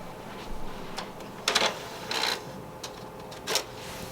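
A PlayStation 2 disc drive struggles to read a badly scratched disc, giving off a few sharp, scattered clicks and brief mechanical whirs against a quiet background, with no one talking.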